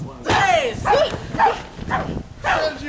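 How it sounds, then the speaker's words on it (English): A dog barks and yips in several quick bursts at fairly close range during a backyard wrestling battle royal, the barks blending into a busy, loud soundscape. "You heard dogs barking."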